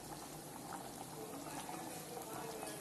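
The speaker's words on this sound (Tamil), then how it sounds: "நல்லா கொதிச்சிருச்சு பாருங்க." Meen kulambu, a Tamil fish curry, bubbles at a steady boil in a pot, giving a continuous close simmering and bubbling texture with no talk over it.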